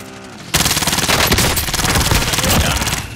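Automatic gunfire in Call of Duty: Warzone bursts in suddenly after a quiet moment, then keeps going as a loud, rapid stream of shots for several seconds before easing off.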